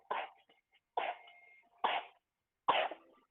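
A child coughs in four separate bursts spaced about a second apart, each sharp onset trailing off into a rough fade, fairly close with no talk around them.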